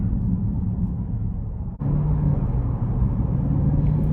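A 2021 Chevrolet Camaro 2SS convertible with a 6.2 L V8 cruises in 4-cylinder mode, a low steady engine drone and road rumble, briefly dipping before a slightly throatier hum resumes.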